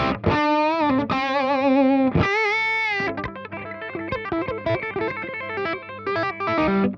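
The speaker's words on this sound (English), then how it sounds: "now that compressed signal is going into the overdrive" Compressed electric guitar through an overdrive pedal, thick and gritty, starting with sustained bends and moving into quick, busy phrases with hammer-ons, loud and up close.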